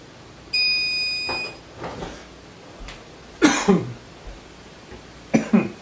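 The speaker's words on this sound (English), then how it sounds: "just the aroma of those hot peppers is making me cough" A few sharp coughs close by, set off by hot pepper fumes, first a single burst, then a louder double cough, and another near the end, with a faint high electronic beep early on.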